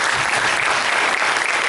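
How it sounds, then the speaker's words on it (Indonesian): Loud, dense applause from an audience at a BioGreen company seminar, a continuous wash of clapping with no pauses. "Tepuk tangan dulu."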